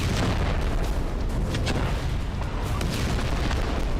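Israeli bombardment in southern Gaza near the Rafah border: a continuous, dense roar of distant explosions and rumbling blasts, with sharper bursts scattered through the low, heavy din and no talk.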